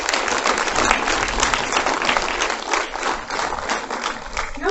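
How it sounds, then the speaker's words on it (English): Dense, continuous applause from a crowd at a hospital formation day celebration honours the nursing staff, filling the space without a break. "A very big applause to all the nursing staff."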